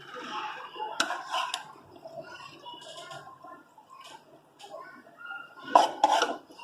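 Cooked lauki sabzi being served from a pan into a dish, with soft scrapes and a few sharp metallic clacks of a spoon against cookware, close and fairly quiet.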